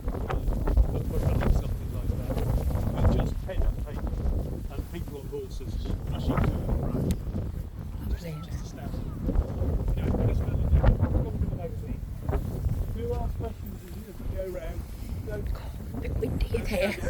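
Gusty wind at the Drop Redoubt fort on the Western Heights, Dover, buffets the microphone with low rumbling roar throughout, while a person talks underneath.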